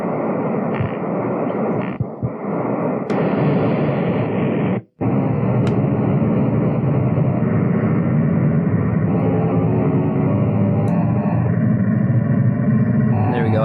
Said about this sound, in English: I'm putting in essentially just beach wave field recording right now, which is essentially white noise